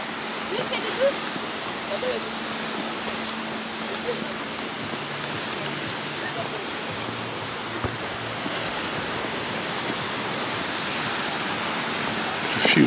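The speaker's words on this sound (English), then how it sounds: "A few little waves there." Small waves breaking gently on a quiet beach at Sa Coma, Mallorca, heard as a steady soft wash of surf with little variation.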